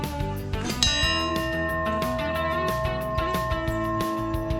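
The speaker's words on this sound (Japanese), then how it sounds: "その左手には幸せの鐘。 せっかくなので鳴らしておきます。" A bell struck repeatedly at Tenryukyo gorge in Nagano, Japan, its bright metallic tone ringing and sustaining, with several strikes overlapping in a shimmering, resonant wash.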